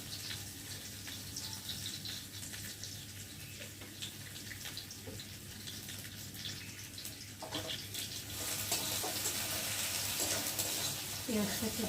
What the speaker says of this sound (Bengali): তো তার জন্য আমি রসুনটাকে ভালো করে আগে ভেজে নিচ্ছি।